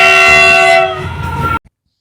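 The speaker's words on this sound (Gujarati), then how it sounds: "ફાઇનલી આપણે જે રેલગાડીની રાહ જોતા એ આવી ગઈ છે" A train sounds a loud, sustained horn close by as it arrives at a railway crossing, then rumbles briefly before the sound cuts off.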